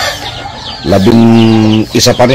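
A mother hen raising eleven two-week-old chicks clucks loudly and close by in a harmonic, drawn-out call, with a person speaking briefly over the end.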